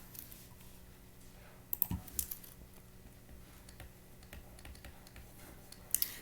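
Fingers tapping number keys on a computer keyboard, a quiet, uneven run of soft clicks with a few sharper keystrokes, close by with no talking.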